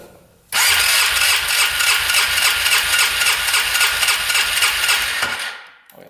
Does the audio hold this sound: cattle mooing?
no